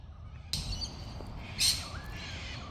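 Several bird squawks and chirps ring out over a steady outdoor park background, one sharp call standing out loud and near amid fainter calls.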